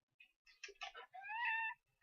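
Pet cat meowing indoors, a few short chirpy calls followed by one longer, drawn-out rising meow, close and clear with no talking.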